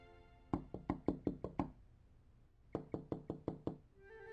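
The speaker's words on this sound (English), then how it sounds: "Who is knocking on the window instead of the door?" Knocking on a window, two quick bursts of about six sharp raps each separated by a pause, close and crisp in a quiet room.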